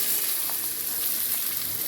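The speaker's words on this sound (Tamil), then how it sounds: "இப்போது நான் வெங்காயம் ஆட் பண்ணுறேன்." Chopped onions dropped into hot oil in a pan, giving a steady, close broadband sizzle that carries on without a break for about two seconds, with no voices over it.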